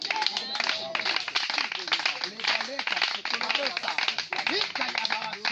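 An audience in a Kinshasa prophetic church gathering claps and cheers in acclaim of the king, with sustained rapid applause and voices shouting throughout, loud and close.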